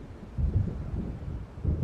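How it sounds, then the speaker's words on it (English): A storm builds in the game Alan Wake, heard as a low rumbling roll of thunder with windy noise, fairly faint, swelling twice over a couple of seconds. "It seems there's a storm coming."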